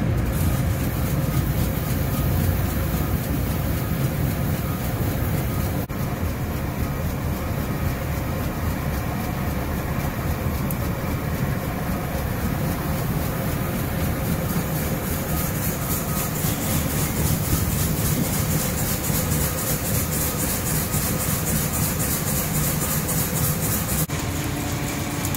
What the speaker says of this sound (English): Jake turns on the auger and pushes them into the mixer